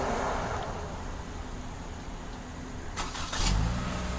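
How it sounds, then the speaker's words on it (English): A push-to-start Toyota Camry engine starts by remote starter, a steady idle rumble building into a brief louder start burst near the end, with no voices. "This will trigger remote start."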